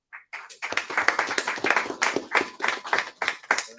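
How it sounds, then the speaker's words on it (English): An audience at a township council meeting claps for a police officer, a brief burst of steady, close applause from a room of people lasting a few seconds. "You can clap for him anyway."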